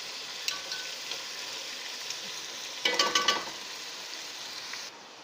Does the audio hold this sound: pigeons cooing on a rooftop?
no